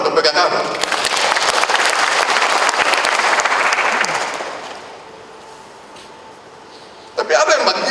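A crowd applauds at an official swearing-in ceremony for government officials, with loud, dense clapping that fades out after about five seconds before a voice speaks again.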